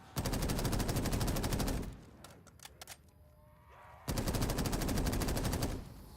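Rapid automatic gunfire from a Pack-a-Punched upgraded gun in Black Ops 3 custom Zombies, two loud sustained bursts of dense shots separated by a quieter gap with faint game sounds.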